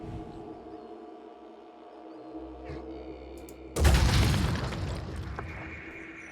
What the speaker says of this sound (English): we are shooting every single rock in sight today